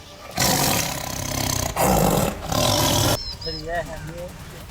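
A tiger roars in Sitapur, Uttar Pradesh: loud, drawn-out roaring in two or three long bursts that fill most of the clip, then quieter trailing sounds.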